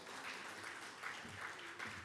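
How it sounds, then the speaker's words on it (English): Applause from a seminar audience, a faint, even wash of many people clapping heard from a distance and continuing steadily. "Can I have a huge round of applause for my committee member,"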